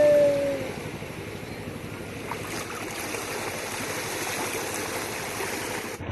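Sea waves washing onto the shore at Digha, a steady broad rushing wash that stays constant and moderately loud, with a brief tonal sound at the very start.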